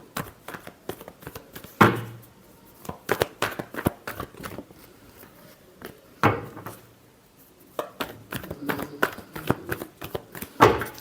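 Tarot cards being shuffled by hand, with repeated short riffling bursts and soft taps separated by brief pauses, close and fairly quiet with no talking.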